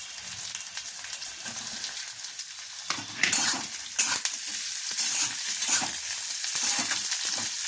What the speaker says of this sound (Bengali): এবার এটাকে একটু হালকা আমি ভাজতে দেবো।